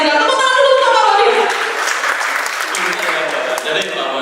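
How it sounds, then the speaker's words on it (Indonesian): An audience applauds a police officer's stand-up comedy set at Aceh regional police headquarters, with dense, loud clapping mixed with cheers and shouts that gradually thin out. "Tepuk tangan dulu untuk Pak Babin."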